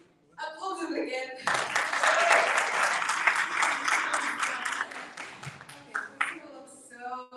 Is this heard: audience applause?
yes